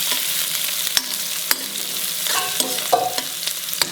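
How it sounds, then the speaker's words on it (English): Chopped onions fry in a pan for a mixed vegetable dish, a steady close sizzle broken by sharp scraping knocks of a spoon stirring and folding them in. "I will fold in the chopped onions. Let it fry the onions."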